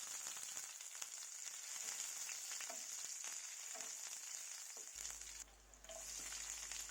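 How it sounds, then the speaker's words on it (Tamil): Ginger and garlic with mustard seeds and curry leaves sautéing in hot oil for a brinjal gravy, a steady close sizzle with stirring scrapes, briefly dipping near the end, no talk. "கூடவே இஞ்சி பூண்டு சேர்த்து நல்லா வதக்கி விட்டுக்கோங்க"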